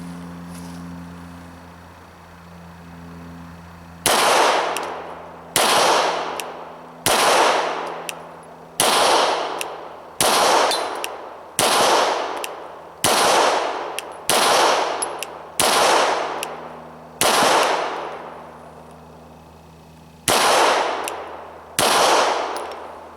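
A Glock 17 Gen 4 9mm pistol fires 124 grain reloaded rounds, about fifteen sharp single shots spaced a second or two apart with ringing decay, loud and close over a steady low hum.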